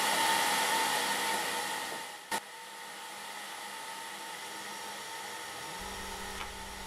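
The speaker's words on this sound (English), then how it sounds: "plug in the air assist, and then I'll hit start and we'll see what happens" A laser engraver with an air-assist pump works on wood on a rotary attachment, giving a steady, loud airy hiss with a faint tonal whine, one sharp click and a low hum entering near the end.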